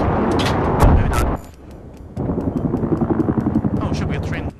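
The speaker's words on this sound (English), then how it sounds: "Hostile helicopter has been spotted in your area." A helicopter in the multiplayer video game Battlefield 3 thumps with rapid rotor pulses amid loud gunfire and explosions, the chopping rhythm steady and close while voices speak over the combat.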